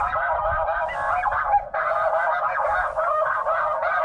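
Snow geese honk loudly and repeatedly in a dense flock chorus during a goose hunt, a continuous overlapping clamor close by with no talk.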